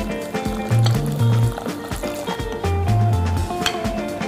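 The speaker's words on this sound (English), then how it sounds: "hot boiling water goes in." Hot boiling water poured from a kettle onto dry couscous grains in a bowl, a steady gurgling stream with rising pitch as it fills, running alone for several seconds.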